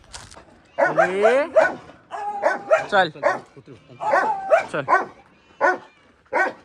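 Several dogs bark and yip in bursts at a farmhouse, some whimpering, close by, while a person speaks briefly among them.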